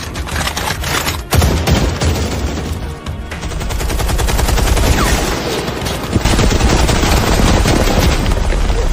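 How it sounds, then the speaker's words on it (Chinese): Rapid automatic gunfire rattles loud and dense throughout a battle scene in an animated drama, sustained bursts with a sharp crack near the start and no talking over it. "给我开火，把它轰成肉渣！"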